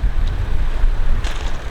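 Wind buffets the microphone with a low rumble on the bank of the Colorado River, with a faint wash of water underneath and no voices.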